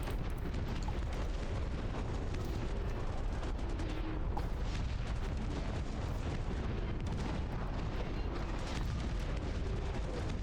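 Artillery bombardment in the RTS game Dust Front, a dense continuous roar of overlapping explosions and booming impacts, loud and unbroken throughout, with no voices.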